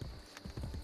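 Horse hooves clip-clop in Assassin's Creed Brotherhood, a quick run of close hoofbeats in an uneven gallop, with faint game ambience behind.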